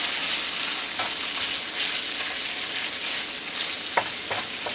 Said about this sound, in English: Alright, we got our bacon going in the pan. We're just gonna render this down real good.